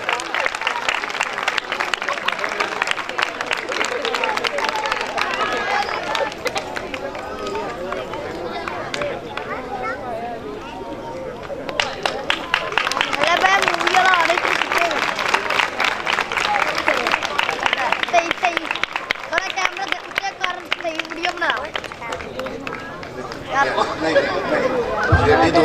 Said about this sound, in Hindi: इस मोहब्बत के लिए भी जोरदार तालियां